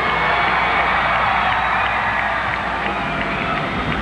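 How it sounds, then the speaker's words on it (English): A basketball arena crowd of NU Bulldogs fans cheers steadily during a close third-quarter UAAP game, a dense, continuous roar of voices with no breaks, loud and sustained throughout. "We can hear the NU Bulldogs crowd right behind us, cheering their team on."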